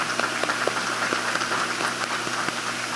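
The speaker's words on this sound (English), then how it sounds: "you all deserve a big round of applause" Audience at a community strategic plan keynote gives a round of applause, a steady patter of many hands clapping evenly without voices.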